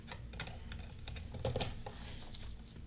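Fast typing on a desktop computer keyboard: a steady, quiet patter of light key clicks, close by and continuous, with no voices.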